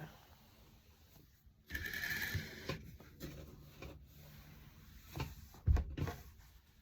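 Sewing machine stitching quilt squares, a soft, steady mechanical whir of moderate loudness that runs in bursts with brief pauses and a few handling knocks.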